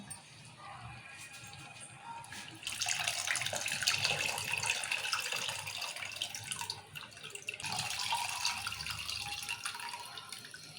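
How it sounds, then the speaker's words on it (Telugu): Soaked tamarind is squeezed by hand and its water poured into cooked dal for pappu charu, a continuous close sloshing and trickling that swells in two longer waves. "ఇప్పుడు విసికి పోసుకోవాలి పప్పులో"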